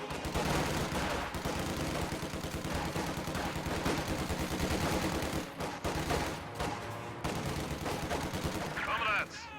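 Video game battle gunfire, dense bursts of rifle and machine-gun shots rattle continuously with a commentator's voice now and then over the fighting.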